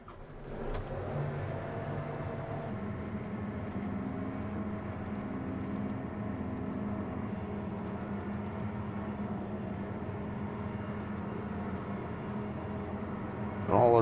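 A combine harvester's engine drones steadily at close range for the whole stretch as the machine is driven into a shed, with a low hum and rumble and a brief louder burst at the very end.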